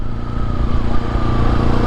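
A 2019 KTM 690 SMCR single-cylinder motorcycle engine idling close up, a loud, steady, lumpy thrum with a rhythmic low pulse and no one talking.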